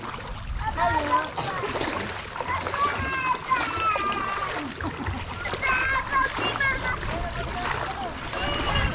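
Water splashes and churns close by as someone jumps into a river, while several voices, including children, shout and talk excitedly over a steady outdoor rush.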